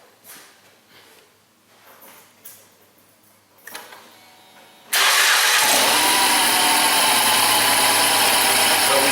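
A Ford Escape engine with a misfire cranks and fires up, then runs loud and steady close by after several seconds of quiet rustling.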